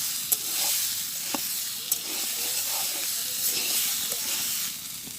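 Taro pieces fry in an oil-filled pan in a village kitchen, giving a steady soft hiss and sizzle with a few faint clicks of stirring, heard close and alone.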